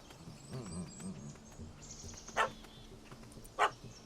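A dog in The Witcher 3 game barks twice in short, sharp yelps a second apart, preceded by a low whine and set against a buzzing insect-like ambience.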